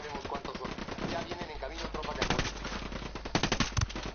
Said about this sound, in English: with the earlier weapons, it does take a lot of bullets to kill them.